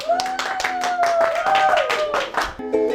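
An audience claps in welcome as Ozan Önkal is invited onto the white carpet: steady, rhythmic claps from many hands over music with a sustained melodic line, continuous and fairly loud throughout.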